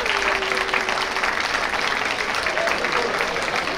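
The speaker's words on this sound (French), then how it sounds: "On applaudit très fort." An audience at a community fraternity and sharing evening in Oyonnax applauds in a steady, close crowd of clapping, with a brief tonal voice-like line near the start.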